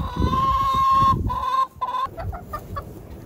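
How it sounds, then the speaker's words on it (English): Chickens cluck and murmur close by around a 55-gallon watering system, with a sustained drawn-out call followed by short, scattered clucks. "the chickens are already using it."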